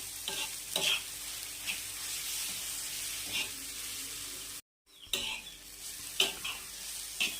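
Grated radish thecha is stirred and sautéed in peanut oil, with a low steady sizzle under repeated scraping strokes of a spoon against the pan, close by, with a brief drop to silence partway through.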